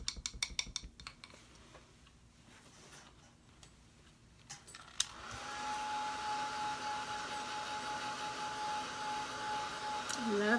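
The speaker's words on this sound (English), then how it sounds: "Love this little dryer. So quiet." Small quiet dryer drying paint on a Santa figure, starting midway as a steady soft whir after scattered light taps and clicks, continuing faint and even to the end.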